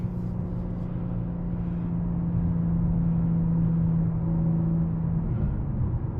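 A 2025 BMW M4 Competition with twin-turbo engine pulls steadily from inside the cabin, a continuous low droning rumble with a rising tone, no voices over it.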